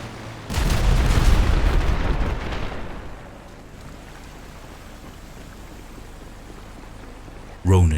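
A heavy boom erupts in the GTA video game, a loud blast rumbling for a couple of seconds before fading into a low wash, then a second sharp impact hits at the very end.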